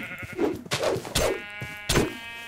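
Repeated sheep bleats in RLcraft, four wavering cries in quick succession, close and fairly loud with brief gaps between them.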